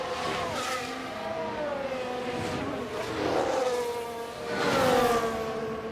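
Several Formula 1 cars scream past in the video game F1 Manager 24, high-revving engines rising and falling in pitch as they pass in quick succession, with two louder passes near the end.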